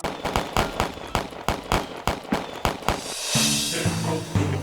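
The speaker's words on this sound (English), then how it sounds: "Go ahead and fire." Live ammunition fired at an ROTC firing range: a rapid run of about a dozen sharp, loud shots in close succession, followed by a lower, rumbling burst near the end.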